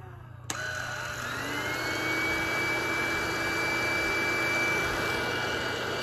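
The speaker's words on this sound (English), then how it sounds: "You push this for max suction power." A Roomie Tech wireless rechargeable stick vacuum switches on at max suction with a sharp click. It then settles into a steady, close, high-pitched whine with a low hum underneath, continuing alone without talk.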